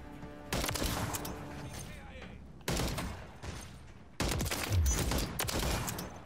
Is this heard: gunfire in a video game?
yes